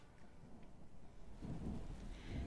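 A thunderstorm sound effect plays in a game: steady rain hiss under a deep rolling rumble of thunder that swells louder toward the end, with no voices.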